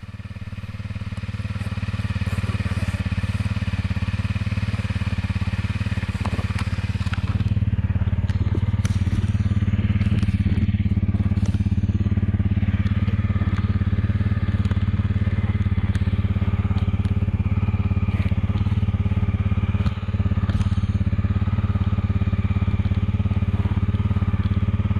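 A light trail motorcycle engine runs steadily and loudly throughout, close up, with a low throbbing drone and occasional clatter and crackle as it rides along.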